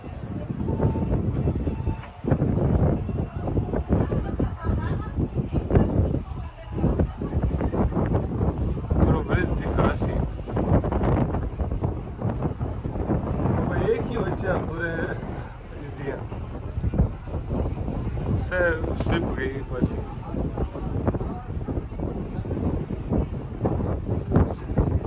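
Strong outdoor wind in Turkey buffets the microphone with a loud, continuous low rumble and roar that rises and falls in gusts for the whole stretch, with faint indistinct voices underneath.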